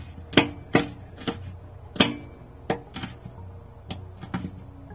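A knife julienning an ingredient into quarter-inch matchsticks on a cutting board produces about ten sharp, close chops in an uneven rhythm, each a crisp knock against the board over quiet kitchen background.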